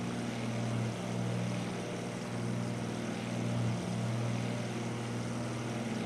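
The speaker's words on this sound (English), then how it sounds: "This is a fantastic little bush plane." A small propeller-driven bush plane in a flight simulator game drones steadily, with a constant engine hum and propeller buzz holding at one pitch, broadband wind-like noise layered over it, moderately loud and without any voices.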